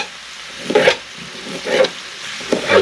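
Venison frying in a hot cast iron pan, with three bursts of louder sizzle and stirring over a steady low crackle, close up.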